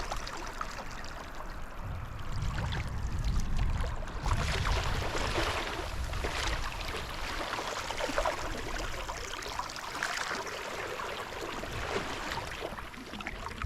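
A whitewater kayak carving with stern ruddering, water swishing and rushing against the hull in a steady flow, with splashy surges and no voices.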